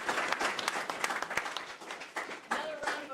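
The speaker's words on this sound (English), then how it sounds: "Round of applause for them." Clapping at a fishing club's membership drive meeting as a small audience applauds the board members, with individual hand claps standing out, uneven and fairly close, and voices mixed in.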